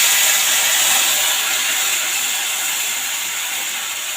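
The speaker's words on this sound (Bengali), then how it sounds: "এবার মা ফোড়নে দিয়ে দিচ্ছে তেজপাতা আর গোটা জিরে" Bay leaves and whole cumin seeds sizzle in hot oil, making a loud, steady, bright hiss that fades slightly as it carries on, close and unbroken by any talk.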